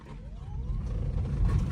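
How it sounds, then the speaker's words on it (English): Kia Niro EV accelerating, a low road rumble and tyre noise building steadily, with a faint electric motor whine rising in pitch. "I just want to show you the acceleration in the EV"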